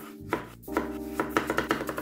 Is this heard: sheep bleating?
no